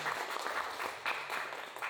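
Audience applause at the opening ceremony of an art exhibition, a short, moderately quiet burst of clapping that carries on steadily throughout.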